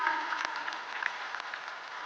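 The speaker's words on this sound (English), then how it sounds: "For a wonderful round of applause" Audience applause at an NSE event in Mumbai marking 30 years of the NIFTY50: quiet, distant-sounding clapping from a crowd, steady and even across two seconds with no voices over it.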